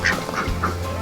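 Several nasal duck quacks ring out in quick succession at a duck farm, close and fairly loud over a low steady hum, each call short and buzzy.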